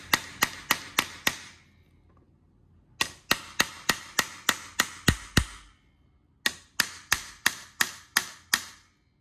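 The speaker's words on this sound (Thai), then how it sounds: "อันเล็กจะค่อนข้างตอกยากนิดนึงอันนี้แข็งนะ" Hammer blows drive a nail into hardwood for a synthetic rattan khan tok tray, sharp close strikes in three bursts of about five to ten evenly spaced hits with short pauses between.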